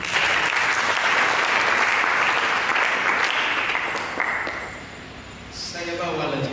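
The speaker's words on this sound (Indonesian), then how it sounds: "Berikan tepuk tangan." A church congregation bursts into loud, sustained applause during a service. The clapping fades out toward the end, where a voice briefly speaks.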